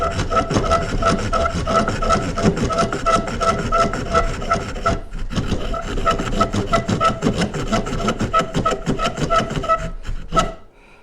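Steady, vigorous sawing through the corner of a piece of pine wood with the saw teeth of a Harbor Freight survival knife, the gritty rasp of each stroke repeating rapidly, with one brief pause midway before it trails off.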